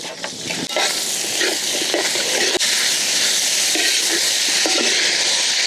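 Chopped onions, small shallots and green chillies hit hot oil with ginger-garlic paste, giving a steady, loud sizzle and hiss that runs the whole time, with occasional scraping stirs.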